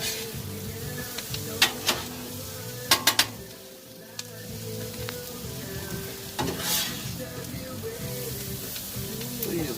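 Brussels sprouts stirred in bacon grease on a Blackstone griddle, a steady sizzle with a few sharp metallic spatula taps and scrapes near the start and middle.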